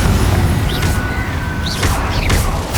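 Confringo fire-blast spells hit targets in Hogwarts Legacy, with several sharp bursts and whooshing impacts over a dense rumbling battle din, loud and close.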